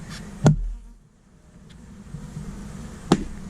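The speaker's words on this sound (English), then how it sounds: "Now there are some bees in here, so I'm going to just knock them out" Bees buzz steadily at close range inside a hive, with two sharp knocks or taps about three seconds apart breaking through the drone.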